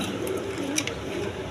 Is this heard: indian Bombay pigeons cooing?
yes